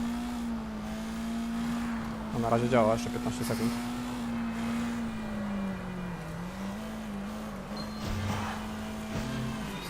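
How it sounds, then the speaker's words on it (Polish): Car engine in the video game Sleeping Dogs, a continuous mid-level hum that rises and falls as the throttle is pressed and eased, with someone speaking over it. "Trochę będę gazu dodawał, trochę odpuszczał."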